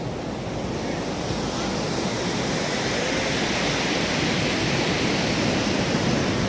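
Loud, continuous ocean surf washes in at Golden Sea Beach, a steady roar of breaking waves mixed with wind buffeting the microphone, with no voices.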